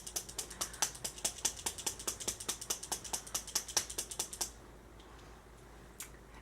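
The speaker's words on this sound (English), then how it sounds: "So I just shake my lip scents up while my lips are drying." A LipSense liquid lip color tube is shaken in a quick steady rhythm, about twenty close crisp clicking rattles in a row, then stopping, followed by one faint click.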